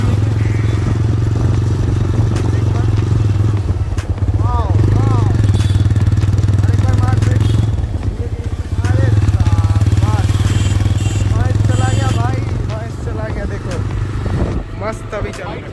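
A TVS Raider 125 motorcycle that has a faulty drum brake grinding and squeaking runs close by. Its engine makes a steady low thrum throughout, with someone talking over it.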